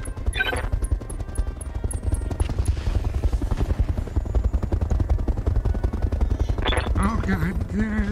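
Mech weapons firing in Roguetech, bursts of rapid machine-gun-like gunfire over a constant heavy mechanical rumble, with brief beeps and a voice near the end.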